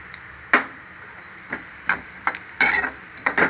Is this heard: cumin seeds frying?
yes